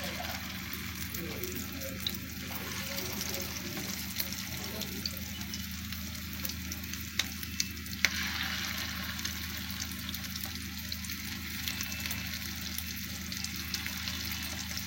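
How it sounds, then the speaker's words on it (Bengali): Fish roe fritters coated in rice flour fry in hot oil, placed in one at a time. A steady low sizzle and bubbling runs the whole way at moderate loudness, with a few sharp clicks of utensils. "এবার আমি ডিমটা ভেজে নিব। এই যে ভালো করে মাখিয়ে নিয়েছি, এখন আমি তেলটাও গরম করতে দিয়ে দিয়েছি। একটা একটা করে বসিয়ে দিচ্ছি।"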